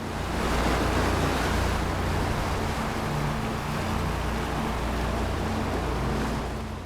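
Ocean waves roll over open polar sea, a loud, continuous wash of surf with a deep rumbling undertone and wind-like roar, steady throughout with no voices.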